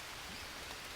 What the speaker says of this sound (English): Let's stand in the rain.